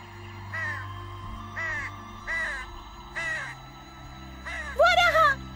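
Several crows caw in a flock, a series of harsh calls in separate bursts at fairly even intervals, with a louder, closer cluster of caws near the end over a low background hum.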